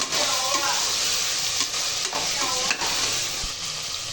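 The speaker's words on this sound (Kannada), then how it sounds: "ಇದು ರಾತ್ರಿ ನೆನೆಸಿರೋದು ಒಂದು ಬಟಾಣಿ, ಅದು ಹಾಕ್ಕೊಂಡು ಫ್ರೈ ಮಾಡ್ಕೊಳ್ಳೋಣ" Capsicum and overnight-soaked peas fry in a pan with a steady, close sizzle, stirred throughout, with a few soft scrapes and knocks of the spoon.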